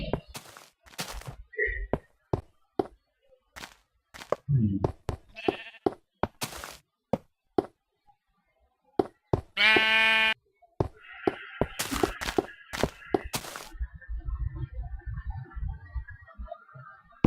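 Minecraft sheep bleat repeatedly among sharp clicks and thumps, with a sustained loud bleat near the middle and a tonal hum toward the end.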